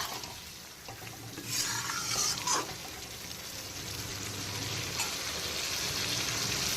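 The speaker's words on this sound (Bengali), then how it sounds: "মশলাটাকে সবার আগে কষিয়ে ভাজা ভাজা করে নিতে হবে" Spice paste for a tiger prawn and elephant foot yam curry is stir-fried in a pan over low to medium heat, a soft sizzle with scraping stirs and a few louder bursts.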